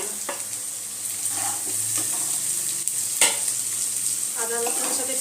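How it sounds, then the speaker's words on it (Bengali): Onion frying with ginger garlic paste in a pan, a constant close sizzle with scraping stirs of the spatula and a few light clinks, no voices. "আদা রসুনের সাথে পেঁয়াজটা আর একটু 2 মিনিট ভেজে নেব।"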